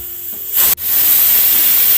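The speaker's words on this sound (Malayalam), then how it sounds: "കുക്കറ് രണ്ട് വിസിലടിച്ചിട്ടുണ്ട്" A pressure cooker on a gas stove lets out a loud, steady hissing whistle of escaping steam. It cuts off briefly partway through, then resumes and carries on without talk.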